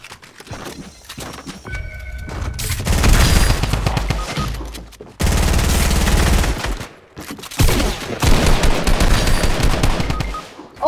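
Rapid bursts of Fortnite gunfire crackle loudly in dense volleys, stopping and restarting several times across the stretch with brief gaps between flurries.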